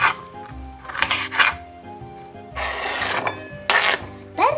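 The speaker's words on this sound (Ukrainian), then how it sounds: "Перець нарізаємо кубиками." A knife dicing a brightly coloured sweet bell pepper on a cutting board for potato goulash, with close bursts of rapid chopping and scraping strokes separated by brief pauses.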